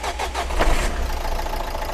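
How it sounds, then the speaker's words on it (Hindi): A 2015 top-model XV car at a second-hand car market in Delhi starts on its self-starter, the engine catching right away into a loud, close, steady idle rumble. "इंजन की आवाज आपने सुन ली"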